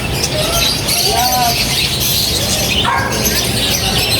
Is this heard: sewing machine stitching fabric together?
no